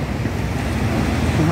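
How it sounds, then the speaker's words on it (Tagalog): Ocean waves wash onto a beach at night in a steady, broad roar with gusty wind rumble, no distinct breaks over the short span. "naririnig ninyo ang pagaspas ng alon"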